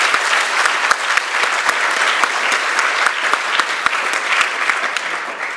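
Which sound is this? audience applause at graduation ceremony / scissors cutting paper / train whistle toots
audience applause at graduation ceremony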